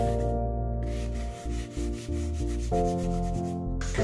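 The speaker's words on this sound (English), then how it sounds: "Next, I sanded the complete stencil with a sanding sponge." A sanding sponge rubs over a painted stencil on furniture, making a steady scratchy scrubbing under a constant tonal hum, continuous and close without talking.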